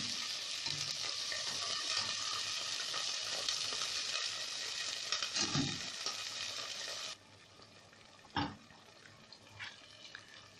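Vinegar is poured into a hot pan of eggplant and garlic, and a loud, dense sizzle hisses steadily before dropping to a quieter simmer, with a few sharp clinks and knocks near the end.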